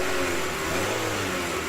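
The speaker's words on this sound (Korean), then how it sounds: "엔진을 시동을 걸어서 엔진 작동 상태를 먼저 확인하고요" Car engine idling steadily after being started during an ignition circuit check, a constant close mechanical hum with an even tone throughout.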